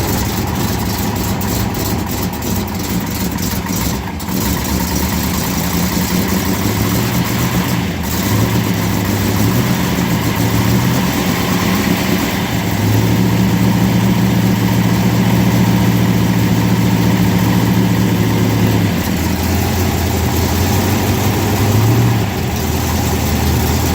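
A 1970 Dodge Challenger convertible idles steadily and loudly, its exhaust clicking and ticking in a continuous rough patter with a low rumbling drone underneath.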